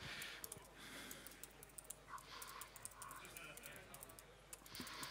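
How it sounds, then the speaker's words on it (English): Rapid irregular clicking of a computer keyboard as someone types code, moderately close, with soft breathing and room noise underneath. "This is the hard part, typing."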